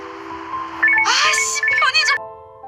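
A mobile phone alarm goes off with loud, bright electronic tones and a chirpy, voice-like jingle, rising sharply for about a second and a half over a steady hum, then cutting back to quiet tones.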